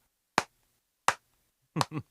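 A single person claps hands four times, sharp and close in a quiet room: two spaced claps, then two in quick succession.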